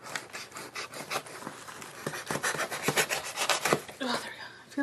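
A blade scrapes and slices through the plastic wrap and cardboard of a K-pop album package, giving repeated close, rasping cutting strokes with short pauses between them.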